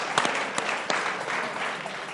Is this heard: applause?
yes